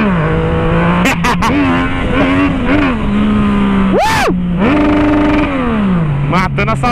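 Remapped Yamaha MT-09 motorcycle engine roaring loud and close, a steady growling idle broken by sharp throttle blips and one big rising rev that falls back, with brief pops between.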